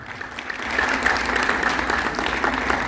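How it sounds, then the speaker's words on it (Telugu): Audience clapping warmly at a Telugu family ceremony honouring elders, a dense crowd of hands swelling slightly after the first moment and holding steady and close throughout. "ఆత్మీయ సంబంధాలతో క్లాప్స్ కొట్టండి గట్టిగా"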